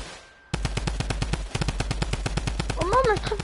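Rapid automatic gunfire in a video game rattles out as a loud, dense stream of evenly spaced shots after a brief quiet start, continuing to the end, with a faint voice briefly audible near the close.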